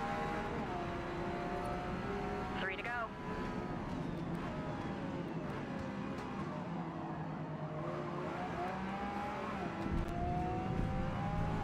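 Race car engine from the Forza Motorsport video game, a steady loud drone with shifting revs and downshifts, tires squealing faintly at times, running continuously with no gaps.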